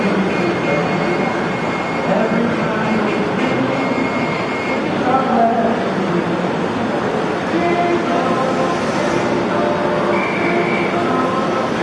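A G gauge model logging train runs on a large indoor layout, giving off a continuous, even mechanical rumble and rolling hum that stays fairly loud and steady throughout.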